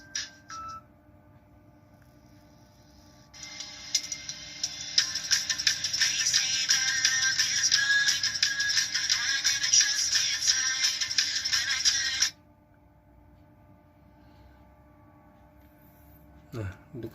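NCS music played through the built-in speaker of an MD3 Max budget smartwatch, thin and bright, starting after a few seconds and lasting about nine seconds at a steady level, with brief faint sounds before and after.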